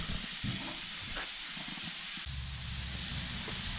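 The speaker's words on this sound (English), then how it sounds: "you see these onions are done steaming" Onions and a hamburger patty steam under the closed lid of a grill, giving a steady close hiss with a low rumbling undertone and a small shift midway, no talking.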